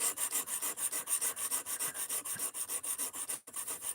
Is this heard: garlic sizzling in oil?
no